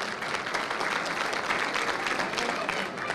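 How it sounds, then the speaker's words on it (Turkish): A crowd at a Turkish village gathering claps in thanks for a cash donation, dense and steady applause running evenly for a few seconds at moderate volume with a faint murmur underneath. "bir alkış veriyoruz."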